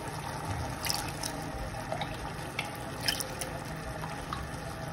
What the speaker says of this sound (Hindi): अब हम इसमें पानी पूरी का पानी डालेंगे।